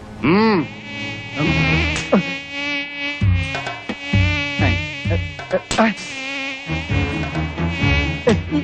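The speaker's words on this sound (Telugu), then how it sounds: "ఈగలు" Flies buzz loudly and close, droning whines that rise and fall in pitch, several overlapping passes.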